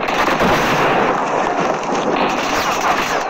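Sniper gunfire in the mobile shooter game Call of Duty Mobile: dense, loud, continuous bursts of shots and blasts fill the whole few seconds with no pause.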